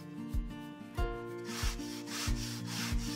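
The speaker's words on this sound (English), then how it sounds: "first I sand the edges of the wood and the paint sticks to smooth it out" Wood pieces and paint stir sticks being sanded along their edges, a steady rubbing scrape with rhythmic strokes, close and fairly loud with no talking.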